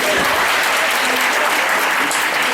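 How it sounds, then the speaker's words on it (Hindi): Steady, dense clapping from a room full of students and faculty at a motivational talk, loud and continuous throughout with no gaps. "ताली बजाओ मुझे."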